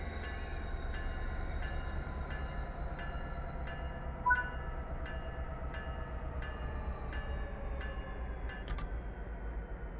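A train in the video game Train Sim World 3 on the Arosa line rolls steadily with a low engine rumble and regular rhythmic clicks from wheels over rail joints, plus a brief squeal, with no voices.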